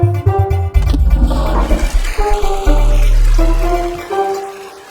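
Water flushes with a loud, surging rush that swells and churns for several seconds before cutting off abruptly.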